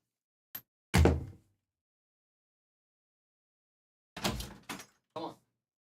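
Household door opened to let a cat in: a small click, then a firm thud, a pause, and a cluster of knocks and rattles as the door moves, close and fairly quiet with no talk.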